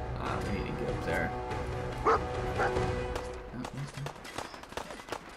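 Dog barking and yipping in the video game Fallout 4, several short close barks scattered through constant talk and game noise.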